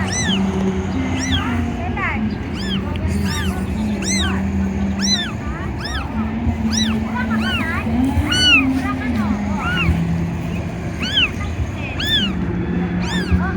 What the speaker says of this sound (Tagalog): Kawawa naman itong mga kuting na ito.